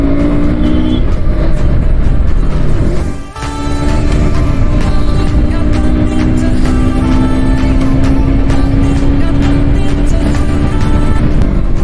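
A KTM RC 125cc motorcycle accelerates along a highway, its engine note rising steadily through the gears with a brief dip at a shift, loud and continuous with wind noise throughout.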